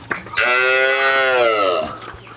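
A black Baghabari Jersey dairy cow moos once, close and loud, in a long drawn-out call with a few faint clicks and background sounds around it.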